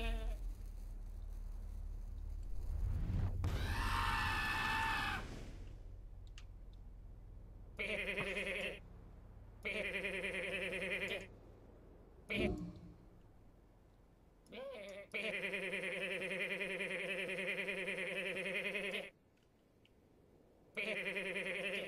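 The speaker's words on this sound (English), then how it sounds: "the goat noises are fine" Goats bleat repeatedly, close and fairly loud. Several drawn-out calls come one after another with brief silences between them.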